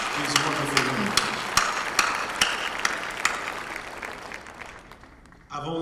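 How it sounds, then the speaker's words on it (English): An audience applauding after a speaker asks them to honour a group of women, with dense, steady clapping that slowly thins out before the room goes quiet. "So join me in applauding these wonderful women."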